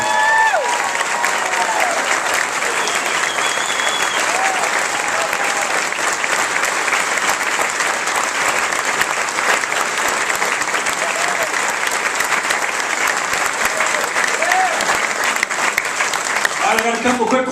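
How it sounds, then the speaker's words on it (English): A political event audience applauds steadily for a governor, a dense and loud wash of clapping from a large crowd, continuous throughout with no pauses. "we owe him a round of applause"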